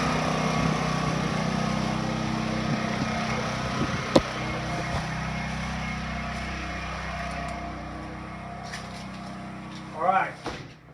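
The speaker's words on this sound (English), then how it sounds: "we connected and we started the generator" A portable generator hooked to a house through an interlock kit runs with a steady, even engine drone throughout. One sharp knock cuts through midway, and brief rustling and clattering come near the end.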